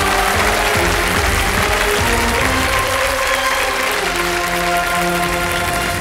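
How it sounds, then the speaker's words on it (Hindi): A studio audience on Kaun Banega Crorepati 14 applauds loudly and steadily, a dense, continuous wash of clapping with no pauses. "वेल प्लेड, ताली पहले ही बज रही है।"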